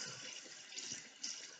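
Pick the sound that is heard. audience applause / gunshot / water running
water running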